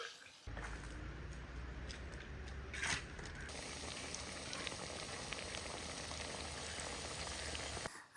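Fish frying in hot oil for a Kerala-style fish pickle gives a steady, even sizzle, close and fairly quiet, with a brief stir or clatter partway through.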